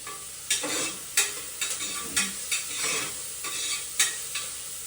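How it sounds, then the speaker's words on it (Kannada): Ingredients for egg biryani sautéing until brown in a pan make a hissing sizzle punctuated by regular spatula scrapes and knocks against the pan, close and rhythmic, without talk. "ಸ್ವಲ್ಪ ಬಾಡಿಸ್ಕೊಬೇಕು, ಸ್ವಲ್ಪ ಬ್ರೌನ್ ಆಗೋ ಥರ."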